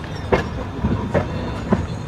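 The Hampi Express stands at Yeshwantpur railway station, with a low rumbling bed of train noise and three evenly spaced, sharp metallic clanks as cars or couplings shift nearby.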